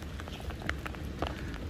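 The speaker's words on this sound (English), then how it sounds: "Really stinks we have rain today" Rain falling outdoors, a faint, steady patter with scattered sharper drops hitting surfaces nearby.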